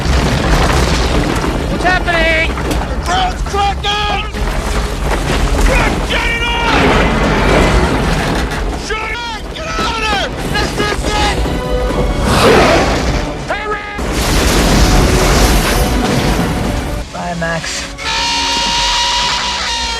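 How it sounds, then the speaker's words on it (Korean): A loud boom as an asteroid explodes in a film scene, with crashing impacts mixed into a dense, continuous soundtrack of music and effects, with voices heard at moments. "갑작스러운 락하운드의 이상 행동으로 소행성이 폭발을 일으킵니다."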